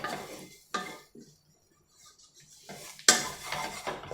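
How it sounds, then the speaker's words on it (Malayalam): Pepper and garam masala powder being stirred into soya chunks in a pan, giving a few separate bursts of utensil scraping and clinking against the pan with quiet gaps between them. "ഇനി ഇതെല്ലാം കൂടെ നമുക്ക് നന്നായിട്ടൊന്ന് മിക്സ് ചെയ്തെടുക്കണം."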